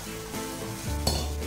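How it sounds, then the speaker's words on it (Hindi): Besan halwa stirred in a pan with a spoon right after boiled water is poured onto the golden roasted gram flour, a close steady sizzle with scraping strokes and one brief clink. "इसको अच्छी तरह से मिक्स कर दें"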